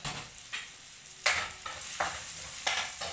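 Chop suey is stirred and tossed in a sizzling pan, with several distinct scraping strokes of the spatula rising over a continuous frying hiss, close and clear.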